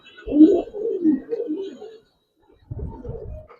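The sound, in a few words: racer pigeons cooing in a loft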